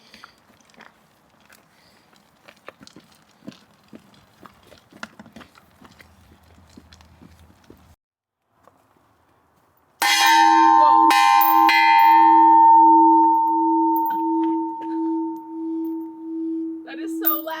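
A loud bell rings out at a campsite near Whistler and Pemberton, with strong sustained tones that start abruptly and decay over several seconds after quieter background sounds and a brief voice.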